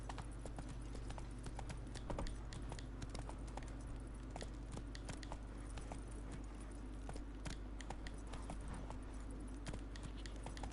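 A horse galloping in the video game The Witcher 3: Wild Hunt, rapid rhythmic hoof clip-clops with jingling tack over a steady low rumble, faint and continuous.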